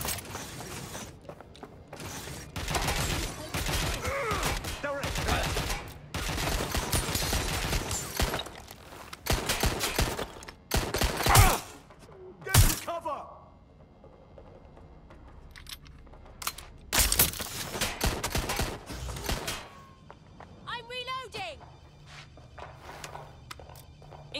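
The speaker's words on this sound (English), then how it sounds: "Shots fired, shots fired!" Gunfire in the video game Watch Dogs Legion: loud bursts of shots come in dense clusters over the first half, then sporadic sharp cracks and mechanical clatter with quieter gaps between, no speech.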